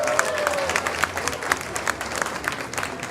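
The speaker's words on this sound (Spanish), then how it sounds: "¡Aplauso!" A crowd of delegates at an evening gathering bursts into lively applause, loud and close, with sharp individual claps standing out over a dense wash of clapping and some cheering voices mixed in.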